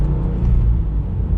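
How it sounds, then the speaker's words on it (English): A Toyota GR86 fitted with a Yonaka catback muffler gives a short, loud exhaust burble from close by. It is a deep, uneven rumble lasting just over a second, with no voices. "Oh, and it's got the burbles."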